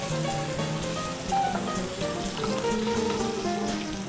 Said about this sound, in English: So we get a nice hot pan going over here, a little olive oil. Take our tenderloin. We're going to get a nice sear going.